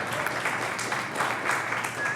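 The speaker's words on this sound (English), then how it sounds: "I want you all to cheer for me, okay? I can officially see my abs, yeah! Let's clap for that!" A pub audience at a live stand-up comedy show applauds for a comedian, a steady wash of clapping from a moderately sized crowd throughout the short stretch.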